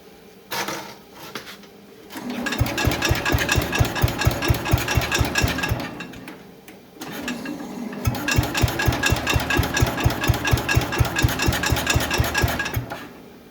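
An old Cub Cadet lawn tractor engine, left unused for over ten years, cranks in two long bursts with a steady, rapid chugging rhythm, stalling briefly between attempts; close and loud, with no talking.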